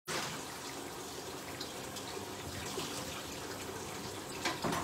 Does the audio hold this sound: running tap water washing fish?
yes